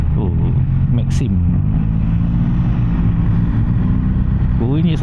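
KTM Duke 790 motorcycle engine while riding in Malaysia, a steady loud low rumble with wind buffeting, and a couple of brief rising rev sweeps near the start and end.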